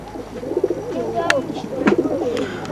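Pigeons coo softly nearby in a loft, several throaty rolling coos in a loose rhythm, with a few sharper chirps and faint background voices.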